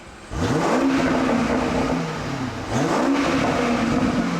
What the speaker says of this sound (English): let's hear what the stock system sounds like